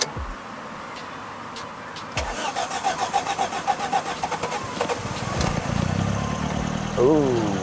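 A Toyota Corolla AE101 with a 4A-GE 20V Black Top engine cranks with a rhythmic chugging starter whir for a few seconds, starting with some difficulty, then catches and settles into a steady idle rumble.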